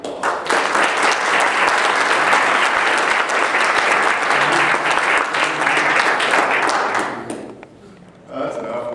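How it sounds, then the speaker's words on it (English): An audience applauds judges at a team competition, a loud, dense burst of clapping that runs steadily for about seven seconds before tapering off, followed by a brief voice at the end. "So let's get a round of applause."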